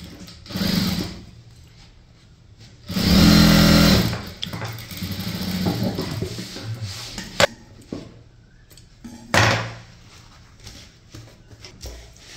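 An electric sewing machine stitching the lining of a blouse, running in a few separate short bursts of fast mechanical whirring, the longest around a second, with quiet handling of fabric and clicks in between, close up.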